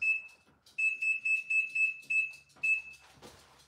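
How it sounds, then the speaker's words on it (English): A crockpot timer being set gives a series of short, sharp electronic beeps in a quick uneven rhythm, fairly faint and close, with a soft clunk at the end. "I'm going to set the timer right now."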